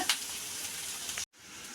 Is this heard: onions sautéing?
yes